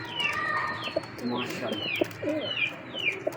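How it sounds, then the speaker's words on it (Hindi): Pigeons coo softly at a distance, with low repeated coos spread across the clip. Brighter bird chirps sound above them, and a voice speaks briefly. "ये मैरों वाला कबूतर है।"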